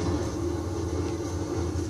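A train in the GTA V video game rolls past as a steady, heavy rumble with a broad mechanical roar, loud and continuous for about two seconds with no talk over it.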